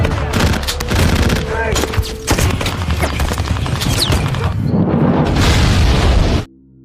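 A grenade blast collapsing a mine in a film battle scene, a loud sustained roar of explosions and gunfire-like bursts with rumbling debris, fading briefly then swelling again before cutting off abruptly.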